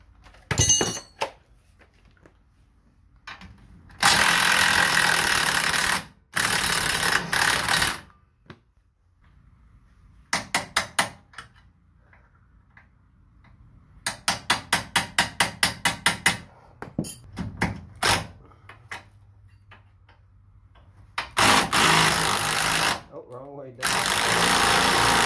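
A pneumatic impact wrench fitted with a 14 mm socket hammers loose the lower stabilizer bar link bolt on a 2006 Honda Pilot, coming in several loud rattling bursts separated by pauses and short clanks, with someone talking in between.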